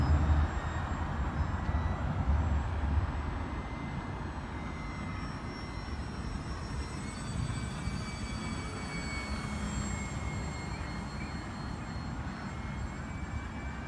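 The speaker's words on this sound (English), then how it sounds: "I'm at half throttle right now. So I'll come across at half throttle and then I'll hit the power and go straight up." A Parkzone T-28 RC model plane, rebuilt with a Power 10 electric motor, flies at half throttle. Its motor gives a steady, thin, distant whine over constant outdoor wind rumble.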